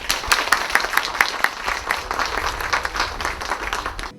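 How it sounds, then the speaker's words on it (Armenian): An audience applauds at a poetry award ceremony, many hands clapping in a lively, uneven patter that stays fairly loud and close for the whole stretch, with no one speaking. "Խնդրում եմ ծափահարեն"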